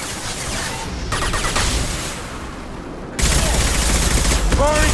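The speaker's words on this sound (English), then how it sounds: "Firing concussive shot." Rapid gunfire and a concussive shot fill a Mass Effect 2 battle. The shots form dense, continuous bursts with a heavy impact partway through, and a voice is faintly heard amid the combat.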